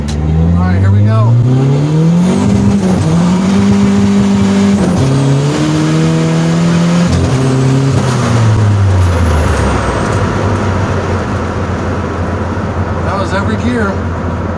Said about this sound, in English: I'm going to try that first, second, third flat shift